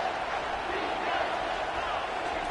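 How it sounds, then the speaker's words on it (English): Football stadium crowd at an NCAA college game, a steady, loud roar of cheering and noise filling the whole stretch without breaks. "This crowd knows when to bring it."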